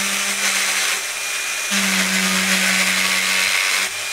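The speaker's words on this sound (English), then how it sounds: "We'll get our polishing wheels out. We'll do some polishing on that." A motorized polishing wheel works clock parts for an early Scottish tall case clock, a loud steady motor whir with a low hum whose pitch dips and shifts as the piece is pressed against and eased off the wheel.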